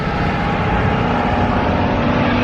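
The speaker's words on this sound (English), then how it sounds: "hold on, loud bus" A loud bus rumbling past on a road in Oahu, Hawaii, a heavy, steady engine drone close by that fills the whole stretch without a break.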